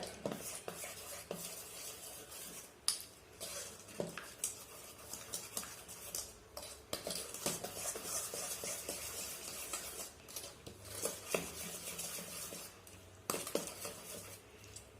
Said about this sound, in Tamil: பொட்டுக்கல்லையும் தேங்காயையும் போட்டு நல்லா மிக்ஸ் பண்ணிடுங்க